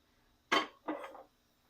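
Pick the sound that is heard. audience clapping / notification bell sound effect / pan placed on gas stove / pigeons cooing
pan placed on gas stove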